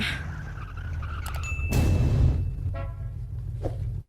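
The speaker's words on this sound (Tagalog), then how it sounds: "Nahadlok kag busina sa auto?" A car horn toots briefly over the low rumble of a running vehicle, followed by another short honk.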